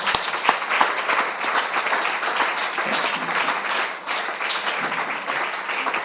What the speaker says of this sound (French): Acclame Jésus pour toi-même.